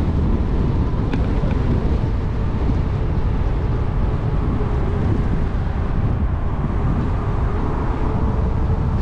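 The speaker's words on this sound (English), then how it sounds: "The wind is like I'm on a motorcycle." Steady, loud wind roar buffeting the microphone while riding an e-bike along a bayfront trail, a continuous low rumble with no letup.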